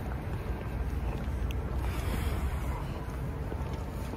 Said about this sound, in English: Hey, here comes the wind.